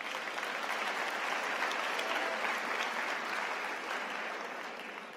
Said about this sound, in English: Let's give them a round of applause then.